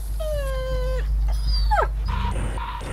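Dogs in a radio drama whimper and yip in a rising, falling series of high whines, then bark sharply, close and loud with no talk over them.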